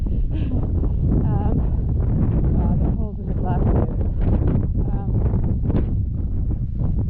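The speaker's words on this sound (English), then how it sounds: "It is a little bit breezy, so it's actually perfect weather." Wind buffets the microphone outdoors during a 100-mile mountain ultra trail race in Snowdonia, a steady breezy rush running under a person's talking throughout.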